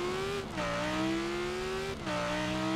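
A sports car, an Audi R8 or Lamborghini Huracán, accelerating hard: a loud, close engine note climbing in pitch through two gear changes, each marked by a brief dip before the revs rise again.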